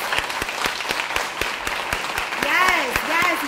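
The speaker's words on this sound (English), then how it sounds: "can we just clap one more time for everybody" Audience clapping at an education reform event, with scattered individual claps under a background of crowd noise, while a voice speaks and gliding vocal tones rise over it near the end.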